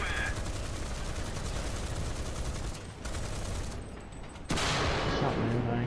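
Tank cannon and gunfire ring out in War Thunder, with continuous rattling fire, a short lull and then a sudden heavy blast as fighting resumes, heard faintly in the background.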